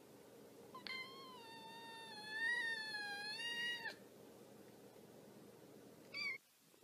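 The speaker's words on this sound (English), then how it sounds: "No, no, get this cat out of here!" A cat lets out one long, wavering meow that lasts about three seconds, then a short second meow follows after a pause. Both are clear and close against a quiet room with no talking.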